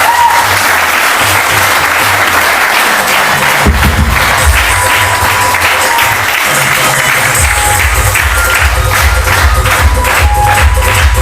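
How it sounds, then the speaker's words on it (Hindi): Loud, continuous audience applause welcoming a speaker onto the stage, a dense roar of many clapping hands with occasional cheers, swelling and holding strong throughout. "तो जोरदार तालियों के साथ उनको वेलकम करता हूं"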